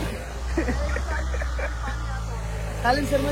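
A Mahindra Thar engine idles steadily after starting, a low continuous rumble under people talking close by.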